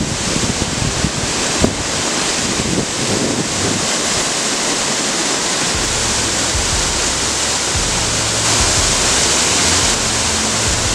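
The waterfalls at La Merced del Potrero, Oaxaca, roar steadily with a loud, broad rushing of falling water, constant throughout, with wind buffeting the microphone and no voices.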